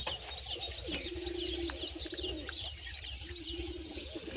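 Pigeons cooing softly in a loose chorus amid faint chirps and background hum, low and moderately distant with no talk.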